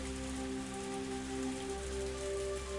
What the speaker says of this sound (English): The only sounds of the break the silence were the percussion of the rain on the roof and the soft squeak of the windshield wipers.